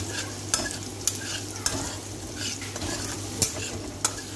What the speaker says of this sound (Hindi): अच्छे से थोड़ा भुने मसाले